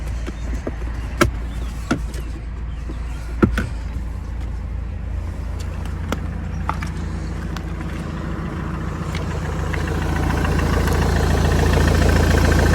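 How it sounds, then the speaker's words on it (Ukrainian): A 2010 Ford S-Max 2.0 TDCi diesel engine idles steadily and low, with scattered clicks and taps around it, the rumble growing slightly louder toward the end. "Дуже тихенько робить двигун"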